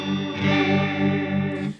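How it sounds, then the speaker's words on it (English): Guitar through a Strymon Timeline delay pedal set for fast modulation that gives a vibrato-like warble. One sustained chord wavers steadily at a moderate level before it cuts off. "So if it's faster, it's like more like a vibrato if it's faster now."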